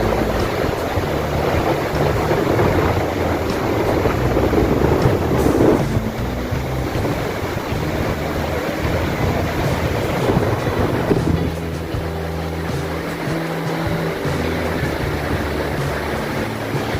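Sea waves heard from a beachfront balcony in Alexandria, a loud, continuous roar of surf mixed with gusty wind buffeting the microphone and a low rumble, easing slightly in the last few seconds.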